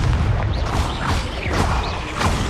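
A Confringo spell goes off in Hogwarts Legacy with a loud, booming blast and crackling debris, over dense game noise and swishing effects, with no speech.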